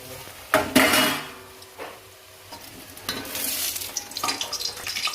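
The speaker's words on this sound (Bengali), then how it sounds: "কোপ্তাগুলো হয়ে গেছে বানানো, এবার ভেজে নিচ্ছি।" Raw banana koftas frying in hot oil, with a steady sizzle broken by clattering of a utensil against the pan and stirring scrapes, close and moderately loud.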